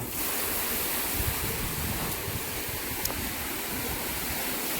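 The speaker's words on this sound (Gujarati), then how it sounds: "મોટરનું આપણે ચાલુ કરી નાખી. હમણાં આવશે પાણી." Water gushes steadily from the outlet pipe of a farm well pump motor, a loud, continuous broadband rush that holds unbroken for the whole stretch, with no voices.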